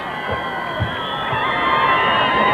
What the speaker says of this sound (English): the crowd congratulating them out there